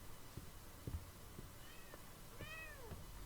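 A cat in a video game lets out a few faint meows, the last a longer rising-and-falling cry, over a quiet ambient background with soft footsteps.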